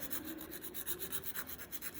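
Soft, steady back-and-forth rasping of a nail file shaping builder gel on a fingernail, rhythmic strokes repeating evenly, quiet and close with no voice.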